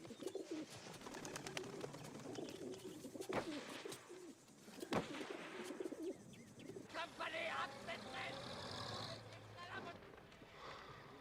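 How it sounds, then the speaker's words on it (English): An English carrier pigeon coos softly several times amid a busy background of other sounds, with people talking nearby. "This is a good little English carrier pigeon."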